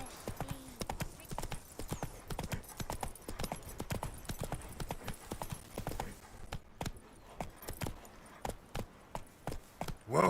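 Hooves of the horse Roach in The Witcher 3, a close, steady clip-clop of a walking gait with irregular footfalls that slow toward the end.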